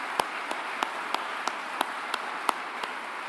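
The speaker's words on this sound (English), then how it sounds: "Penny, Juliet, Sam and Matt another round of applause for their inspiring leadership right throughout the year" A small audience at a Year 12 graduation celebration evening claps fairly faintly, with a few sharp individual claps standing out at a steady rhythm above the soft spread of applause.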